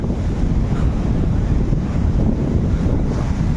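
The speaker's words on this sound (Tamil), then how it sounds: "கடலுடைய அலை பாருங்க கடலுடைய அலை வந்து இவ்வளோ தூரம் வந்திருக்கு" Sea surf rolling onto the shore at the coastal village of Manapadu in Tamil Nadu, a steady loud roar of breaking waves with heavy wind buffeting close by, no voices.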